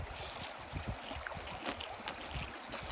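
A mare drinking from a mountain creek: flowing water and wind noise with irregular low splashing gulps, close to the microphone.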